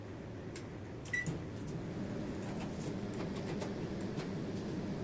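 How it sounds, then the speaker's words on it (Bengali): A microwave oven running while it heats a veg pizza, a steady low hum and whir with a couple of faint clicks or beeps near the start. "এবার আমি মাইক্রোতে দিয়ে দিচ্ছি"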